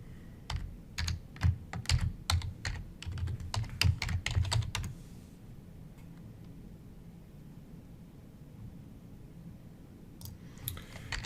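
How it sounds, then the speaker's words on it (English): A username is typed on a computer keyboard as a quick run of close, crisp key clicks for about five seconds, then near quiet, then a few more taps at the end. "I'll type in"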